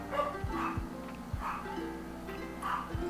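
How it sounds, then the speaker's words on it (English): Several dogs bark and yip indoors at night, with a few short, scattered barks over a steady background hum. "My dogs are wild tonight."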